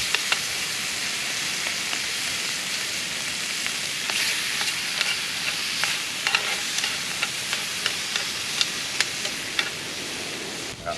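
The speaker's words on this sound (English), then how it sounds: "I'm gonna put all the squid in and the remaining juice that's in there as well. And we'll sizzle that off and just keep stirring it" Squid sizzling over high heat in a pan beside its juices as it is stirred regularly, a steady loud frying hiss broken by frequent scraping clicks of the utensil, heard close up.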